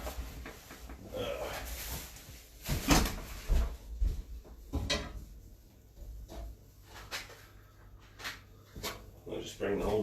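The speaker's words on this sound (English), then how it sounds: "I'll just bring the whole drawer over here." A drawer full of electrical terminals pulled out and carried, with clunks, rattles and knocks of the drawer and loose parts, interspersed with someone talking.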